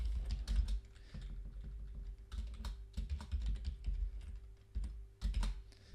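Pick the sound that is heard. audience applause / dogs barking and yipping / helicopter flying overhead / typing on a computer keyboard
typing on a computer keyboard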